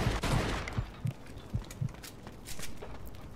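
Gunfire in the video game Mafia 2: a burst of sharp shots up front, then several evenly spaced single reports and a later volley, moderately loud against a busy game background.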